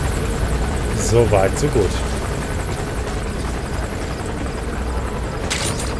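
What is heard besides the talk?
helicopter flying in the video game Metal Gear Solid V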